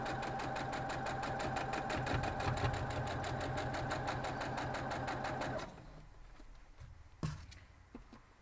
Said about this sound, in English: I'm going to sew this little 4-patch first. The other one is on the machine.